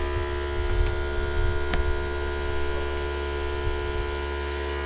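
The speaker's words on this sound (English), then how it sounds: "with this knob you can simply turn on the spindle" The spindle motor on a 3D-printed Dremel CNC machine runs steadily, a constant electric hum with a buzzing whine and faint crackles, close and even throughout.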